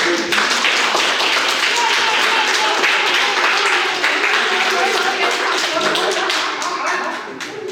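Loud, dense clapping from an audience at a municipal gathering in La Vall d'Uixó, sustained for about seven seconds before tapering slightly at the end, with voices mixed in.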